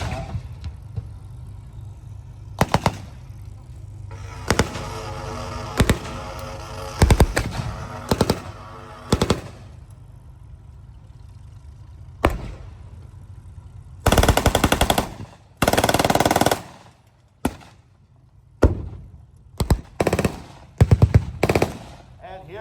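Blank gunfire at a tank battle reenactment during a tank weekend at the Canadian Tank Museum in Oshawa, with repeated loud bursts of rapid machine-gun fire and single shots over a steady engine rumble, with a narrator talking between them.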